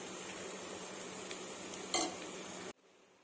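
Curry being stirred and mixed in a pan, a quiet even sizzle with light scraping, one brief clink of a utensil near the end, then an abrupt cutoff into near silence.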